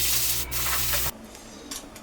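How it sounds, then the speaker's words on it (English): Brushing and spraying debris off a routed wooden sign: a loud scrubbing, hissing spray that cuts off abruptly halfway through, leaving quieter light brushing strokes and faint rustles. "Then I brushed and sprayed it off."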